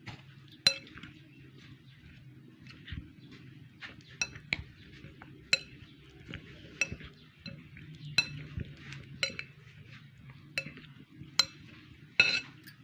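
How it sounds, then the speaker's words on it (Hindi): A spoon mixing ingredients in a bowl, scraping and knocking against the sides in irregular clinks, some sharp taps standing out over a soft low background. "अब हम इसको करेंगे अच्छी तरह से मिक्स।"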